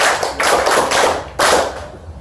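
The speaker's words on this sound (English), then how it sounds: "Can we clap for him?" Audience clapping at a hand hygiene day event, loud and close, coming in a few surging bursts with brief dips between them.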